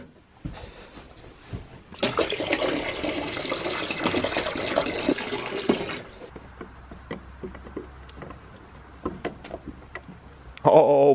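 Water pouring or running into a container for goats in a barn, a steady rushing gush of about four seconds, then quieter knocks and clatter with a brief voice at the end.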